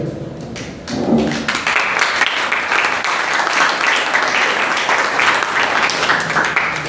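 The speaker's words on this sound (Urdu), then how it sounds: "تالیاں بجاتے ہیں." A crowd breaks into applause after a brief quieter moment at a health day seminar, and the clapping holds loud and steady to the end.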